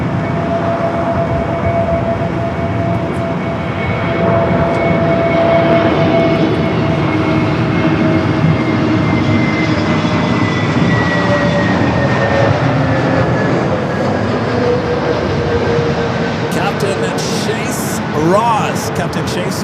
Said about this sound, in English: that flight arriving on the south, the plane Jane at 747. Just crossing the 405 freeway, flight 7106. 747-400 freighter.